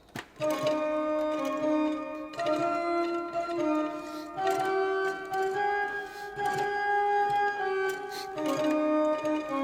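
An organ plays the alto line of Bach's chorale prelude BWV 605 alone, sustained, reedy notes stepping up and down at a lively, steady pace, clear and close.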